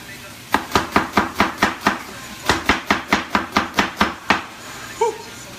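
A knife chops an onion into thin slices on a board with about fifteen crisp, evenly spaced strokes in two quick runs, close and clear, with a short pause between the runs.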